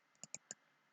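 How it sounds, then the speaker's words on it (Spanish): A computer mouse clicks three times in quick succession, crisp, sharp and close, over near silence. "Le damos clic."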